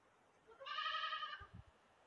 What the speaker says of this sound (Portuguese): esses cabritinhos berrando é minha mãe que cria